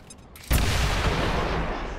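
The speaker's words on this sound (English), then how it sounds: "let's drop a grenade on these guys, which will shred even more armor and set off the claymore" A grenade explosion in XCOM 2 sets off a claymore, a sudden loud boom after a quiet lead-in, followed by a sustained, dense roar of blast and debris that carries on to the end.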